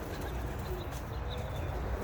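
Pigeons coo softly outdoors after flying on the day after a hurricane, low repeated coos heard against a steady background rush.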